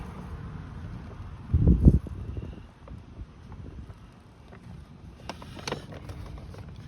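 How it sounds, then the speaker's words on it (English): Gusty wind buffets the microphone with low rumbling bursts, strongest in one brief surge, amid faint outdoor noise. "It's windy out here, I tell you that."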